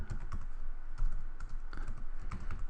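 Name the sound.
typing on a computer keyboard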